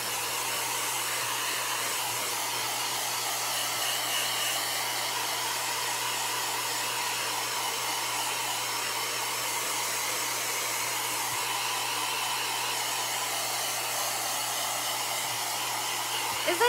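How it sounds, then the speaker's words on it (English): A hair dryer blows continuously with a steady, even whoosh and low hum, running unbroken at constant loudness throughout. "I'm just using a dryer to speed it up."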